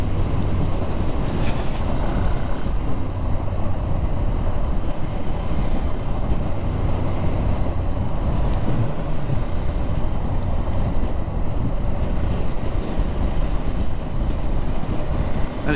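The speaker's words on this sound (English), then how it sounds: "this bike doesn't mind going steady, it's quite comfortable at these sort of speeds" Ducati 696 motorcycle ridden at a steady speed on Isle of Man roads, heard as a constant loud roar of wind rushing past the rider, with a low, even engine drone buried underneath and no talking.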